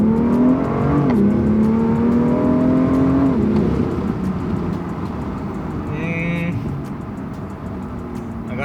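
A BMW M2 engine revs and pulls hard under acceleration, its steady harmonic drone rising, dipping at a gear change and climbing again, loud and close from inside the cabin before easing off.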